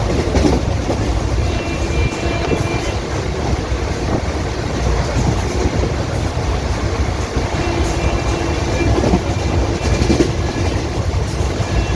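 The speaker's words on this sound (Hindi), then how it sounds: "जैसे ही हमारी ट्रेन रहीमाबाद स्टेशन पहुंचने वाली थी, स्पीड रिस्ट्रिक्शन की वजह से हमारी ट्रेन की स्पीड फिर से" The Rajya Rani SF SPL train runs on rails between Charbagh Lucknow and Hardoi, heard from inside as a loud, continuous rumble with faint rhythmic clacking of wheels over joints.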